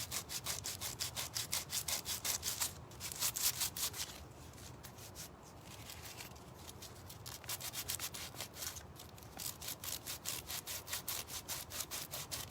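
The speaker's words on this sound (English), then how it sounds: "I am sanding the table." Rhythmic back-and-forth sanding of a wooden table, steady scraping strokes close up with a brief pause in the middle, no talking.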